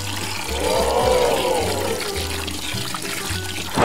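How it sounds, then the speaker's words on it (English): A small LEGO-built water pump sends water into a model swimming pool, a soft pouring trickle with a faint rising and falling motor whine and low rhythmic pulses underneath. "Pump water into the pool."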